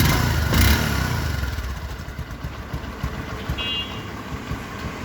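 A Bajaj Discover 125 motorcycle, bought second hand, idles steadily close by with a low, even engine rumble after a brief louder bump at the start, and a faint beeping tone briefly heard.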